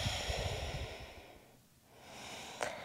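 Slow breathing during ashtanga yoga practice, a soft airy inhale and exhale heard close and quiet with no talking.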